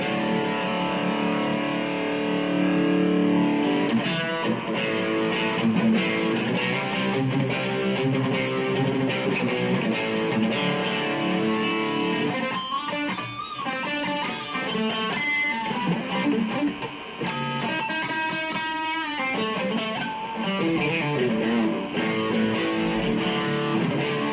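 A distorted Japanese Busker's electric guitar plays steadily, a sustained gritty tone with chord changes and bursts of picked notes, loud and continuous with no voices.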